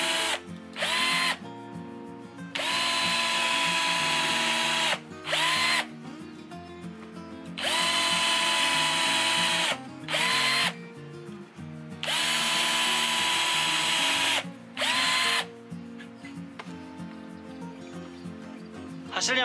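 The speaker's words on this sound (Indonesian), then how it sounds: "Performanya bagus untuk melakukan pengeboran terhadap beton." A Black and Decker 18V BCD003C1 cordless hammer drill bores into concrete in several loud, sustained bursts of high whining and rattling, separated by short pauses.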